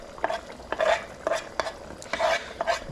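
Ropa vieja simmering in a pot while a utensil stirs it, giving repeated scraping, clacking strokes against the pot over a soft bubbling sizzle, close by and with no talk.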